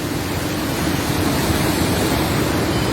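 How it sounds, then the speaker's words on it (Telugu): Meltwater from melting Himalayan ice flows in a steady, broad rushing wash, close and constant with no breaks, like a continuous torrent of cold water. "హిమాలయ పర్వతాల్లో ఐస్ కరిగి నీళ్లు వస్తూ ఉన్నాయి"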